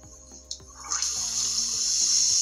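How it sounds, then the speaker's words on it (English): A small piece of sodium reacting in a container of water, giving a steady, bright hiss of hydrogen gas fizzing that starts after a few faint knocks and builds to a continuous rush. "The sound which you are hearing is the formation of hydrogen gas from the bottom"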